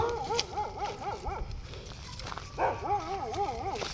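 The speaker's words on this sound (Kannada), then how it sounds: "ಯಾರೋ ನಾಯಿ ಬೇರೆ ಬಗಲ್ತೈತೆ ನಾ" A dog barks and whines in a string of short, wavering yelps, fairly close, in a forest, with a faint rumble of background noise underneath.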